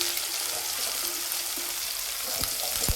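Onion frying in hot oil for a spicy spinach and gram-flour dish, giving a steady, even sizzle with a couple of faint utensil taps near the end and no voices.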